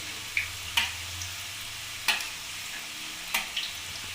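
Kuchu nimki frying in oil in a wok, with a steady sizzle broken by a few sharp metallic clinks of a utensil against the pan at irregular intervals, close and without speech.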